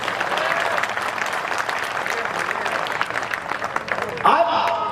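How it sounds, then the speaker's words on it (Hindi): Clapping from an audience at a Marwari poetry gathering, a moderate continuous patter under a speaking voice, with a brief shift near the end. "यार, तालियां कम बज रही है।"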